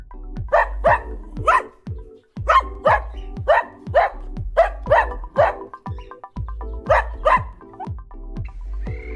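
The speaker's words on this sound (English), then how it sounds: "Dog." A dog barks again and again in an animal-sounds lesson for children: clear, close, sharp barks in quick pairs and short bursts, steady throughout with no voices.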